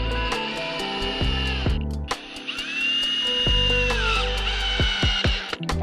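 Cordless power drill driving screws into the wood of a deck gate, whirring in bursts with pitch shifts as it speeds up and slows, close and loud, ending in a few short stop-start pulses.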